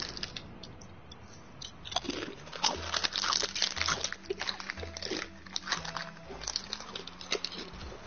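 Crunchy Doritos chips being eaten close to the microphone, with repeated sharp bites and crunching chews in an uneven rhythm, alongside some crinkling.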